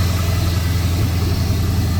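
A 1972 Chevy C10 pickup idles steadily through a cheap aftermarket exhaust, a loud, close, low and even rumble with no revving.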